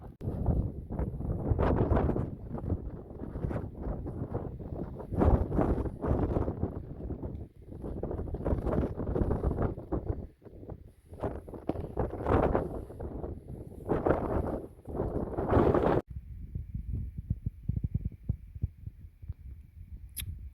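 Strong wind buffeting the microphone at Easedale Tarn, a loud rumbling roar in gusts that drops to a lower, steadier blow near the end.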